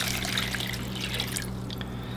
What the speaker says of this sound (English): What we need here is 2 cups of water.